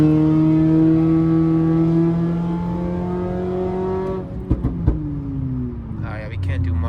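A catless Toyota Camry accelerating hard through traffic: loud, raspy exhaust climbing steadily in pitch through a long pull, then a shift or lift with a few sharp pops before the engine settles lower, heard from inside the car.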